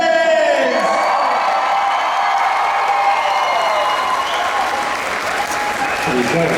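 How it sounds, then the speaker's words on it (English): A large comic convention crowd applauds loudly and steadily, with cheers and whoops mixed into the clapping throughout. "So make some noise for the Phelps twins"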